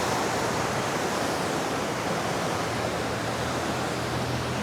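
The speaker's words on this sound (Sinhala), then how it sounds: "මේ වගේ වතුර පාරක් යනවා." A stream of water flows beside a bridge among tea estates, producing a continuous, loud, close rushing wash with no breaks.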